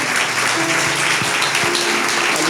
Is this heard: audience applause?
yes